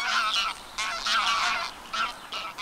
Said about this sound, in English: Here they'll meet up with other Greylag geese families, because they must be part of a huge skine to be able to make the long journey.